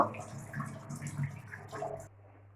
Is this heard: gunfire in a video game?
no